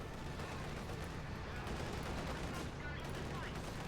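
Rifle fire from German G43 semi-automatic rifles in the WWII strategy game Company of Heroes 2, steady crackling shots mixed into a dense, continuous battle din with rumbling explosions and other gunfire throughout.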